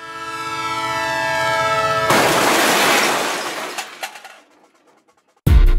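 A train sound effect plays loud and close: a sustained horn blast gives way to a roaring rush of rolling railcars that fades out, ending with a short silence and then a sudden low thud.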